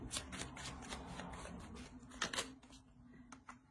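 Tarot cards are shuffled close up in a dense, fluttering riffle of papery flicks. A few sharper snaps come near the end, and no one talks over it.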